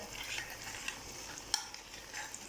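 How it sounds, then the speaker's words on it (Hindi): Mutton malai handi with cream and lemon juice being stirred in a pot, a soft continuous scraping and gentle sizzle with a few light clinks of the spoon, quiet and close. "अब हम इसको अच्छी तरह से मिक्स करेंगे"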